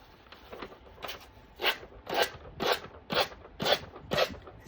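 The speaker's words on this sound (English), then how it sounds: "I am going to get my little gator sander" A small gator detail sander runs over thin decoupage paper in a series of about eight rasping, scratchy strokes in a steady back-and-forth rhythm, close and fairly faint.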